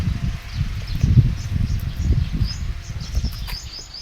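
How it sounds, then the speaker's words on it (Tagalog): Soft, scattered bird chirps sound at a distance over low rustling and ambient outdoor noise on a morning jog, with no voices. "Maririnig mo yung mga huni ng ibon."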